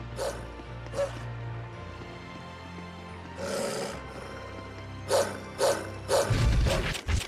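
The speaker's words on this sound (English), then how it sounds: "Dog." A dog barks in the video game Tales of Zestiria, several short sharp barks in a quick run near the end after a few single barks, over a low game ambience.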